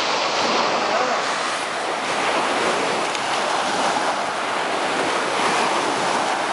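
Sea waves wash onto a Malaysian shore in a continuous broad roar of surf with wind noise, loud and steady throughout.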